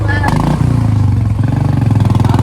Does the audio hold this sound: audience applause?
no